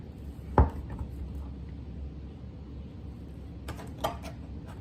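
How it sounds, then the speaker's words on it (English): A knife slices through cinnamon roll dough, giving one firm thud on the board, then a few lighter taps and cuts later on, with quiet background hum between them. "Now we're going to be taking our knife, cutting it in half, cutting this in half, cutting this in half again, and then cutting each into halves again."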